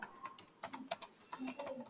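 A computer keyboard clicks as a short comment is typed, with quick irregular light keystrokes, close and quiet, and no voice over them.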